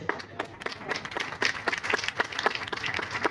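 A crowd claps steadily in applause, many hands creating a dense, sharp patter with no voices.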